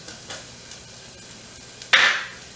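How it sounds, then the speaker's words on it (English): Carrots drop into a pot of browning garlic with a sudden loud sizzle near the end. Faint taps and stirring clinks come before it in a quiet kitchen. "And then I'm going to go ahead and add my carrots"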